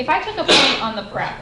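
A single sharp sneeze bursts out in the middle of a classroom lecture, loud and close, with a teacher talking about points on a parabola before and after it.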